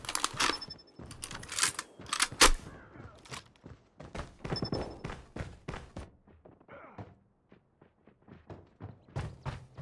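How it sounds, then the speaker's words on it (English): Reloading a gun in the Call of Duty Mobile shooter game: a busy run of sharp mechanical clicks, thunks and snaps from the magazine swap, with scattered thuds and gunfire-like bursts around them, fairly close and punchy. "Changing mag."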